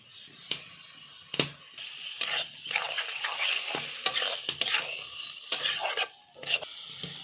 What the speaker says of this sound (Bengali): সুন্দরভাবে নেড়ে চেড়ে নিয়েছি।